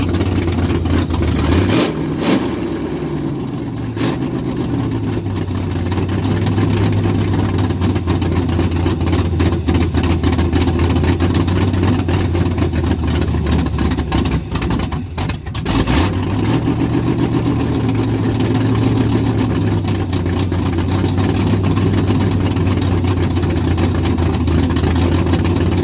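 A rebuilt vehicle engine starts up and runs rough, loud and close, with a low uneven idle that briefly cuts out and restarts partway through.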